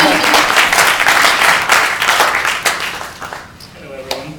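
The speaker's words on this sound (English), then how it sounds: "Applause." Applause from a conference audience before a startup co-founder's talk, a dense wash of clapping that thins out and fades near the end, with a few scattered claps left.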